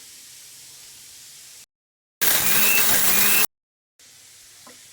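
A kitchen mixer grinder coarsely grinds curry leaf chutney powder in one loud, steady whirring burst of a bit over a second, with quiet room noise before and after.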